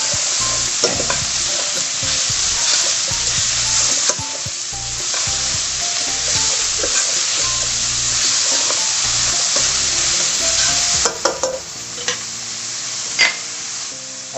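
Vegetables for a rabbit and white bean ragu sizzle and get stirred in a hot pan with browned bits stuck to the bottom, a steady loud frying hiss broken by scraping stir strokes and a few sharper clinks near the end.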